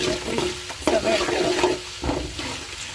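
Chillies drop into hot oil for chilli chicken and crackle loudly at close range, a busy continuous sizzle broken by the sharp scrape of stirring.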